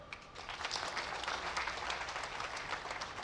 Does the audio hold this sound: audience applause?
yes